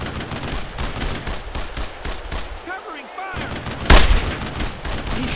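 Squad gunfire in the video game Brothers in Arms: repeated rapid shots and bursts crackle through a dense battle mix, with one loud, close blast near the end and shouted voices over the fighting.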